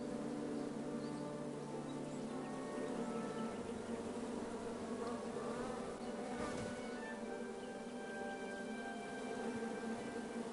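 A swarm of bees in the King's Quest video game drones steadily throughout, a dense, continuous buzz with no pauses.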